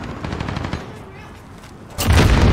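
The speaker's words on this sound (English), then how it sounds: "Popping a grenade" A grenade goes off in a MechWarrior battle: rapid gunfire-like crackling fades into a lull, then a loud, sudden blast erupts near the end and roars on.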